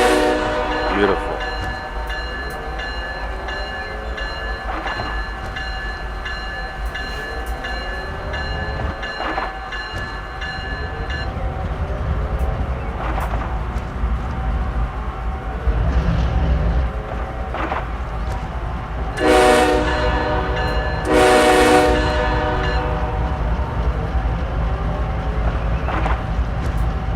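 BNSF ES44AC locomotive in Train Simulator 2 rumbles with a steady diesel drone, its horn sounding in several sustained blasts, two loud ones near the end, while a voice talks over it now and then.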